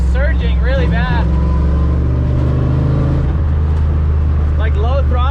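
Toyota 3UZ V8 engine swapped into a Nissan S14, surging unevenly while driving at low throttle, a loud steady drone with wavering pitch, some faint voice-like sounds early on and near the end.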